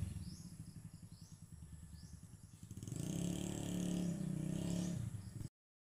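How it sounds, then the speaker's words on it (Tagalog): A motorcycle engine hums close by with a pulsing, rhythmic putter, then swells into a louder steady drone before cutting off abruptly. "Umuugong yung motor, umuugong."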